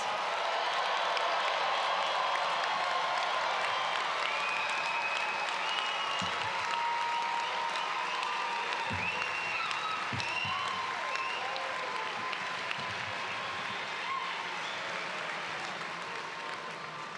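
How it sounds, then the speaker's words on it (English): A large audience at an MBA commencement ceremony applauds continuously, a dense wash of clapping that stays steady and slowly fades a little toward the end. "Please join me in one more well-deserved round of applause"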